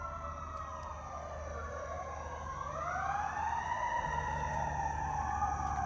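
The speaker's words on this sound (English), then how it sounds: "but 2 fire trucks came" Fire truck sirens wail far off in a rising and falling sweep that swells a little louder partway through, with a low engine hum beneath and no talking.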